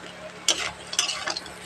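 Crab masala is stirred in sizzling oil: two or three quick, close scraping strokes over a faint background fry.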